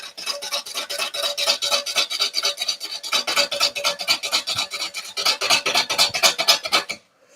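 Gouge cutting a live edge burl bowl spinning on a wood lathe: a rapid rasping scrape pulsing with each revolution, steady and close, then stopping abruptly near the end.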